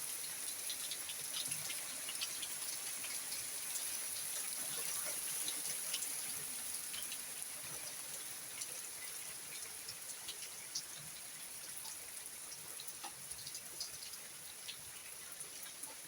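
Heavy rain with hail during a night storm on Portugal's Silver Coast, a dense steady patter with scattered sharper ticks of impacts, moderately distant and unbroken by talk.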